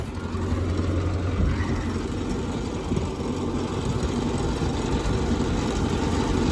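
A vehicle engine runs at a steady low idle, a continuous rumble that holds even throughout, fairly close, with no voices.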